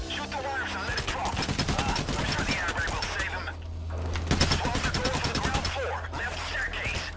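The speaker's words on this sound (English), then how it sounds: "Shoot the wires and let it drop." Sustained bursts of gunfire in the heist video game Payday, shooting at wires to drop a load, with dense rapid shots and game noise running throughout, loud and continuous.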